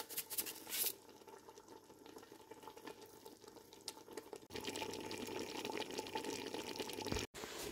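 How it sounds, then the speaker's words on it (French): Two litres of boiling water poured into a cooking pot in a home kitchen, a quiet, steady splashing pour with a brief clatter at the start and a fuller rush of liquid in the second half. "Je viens rajouter 2 litres d'eau bouillante."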